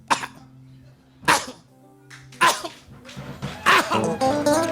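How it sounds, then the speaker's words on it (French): Someone coughing in a church audience during a sermon, several separate coughs and throat sounds spaced across the moment, fairly close and distinct with a murmur of voices between. "J'entends quelqu'un qui est en train de tousser quelque part."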